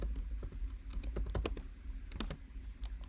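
Fingers typing on a computer keyboard, a steady run of quick, close key clicks with a few louder taps, over a low background hum and no speech.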